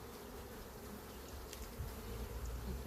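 Honey bees in an opened hive hum in a dense, steady, close buzz of many insects at once, without pause across the short stretch.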